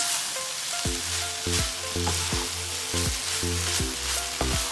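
Chicken and prawn fried rice stir-fried over high heat, giving a steady loud sizzle with repeated scraping and clanking of a spoon against the pan in an irregular rhythm, no talking.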